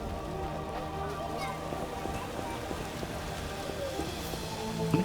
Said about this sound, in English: It's raining every day, like it's crazy.